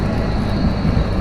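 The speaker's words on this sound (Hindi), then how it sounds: "आगे से ट्रेन आ रही है।" A train approaching on the tracks makes a loud, close, steady rumbling roar in a short burst.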